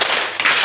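A group of students at a junior high school claps hands together in a counted clapping game, producing a couple of quick, sharp bursts close by.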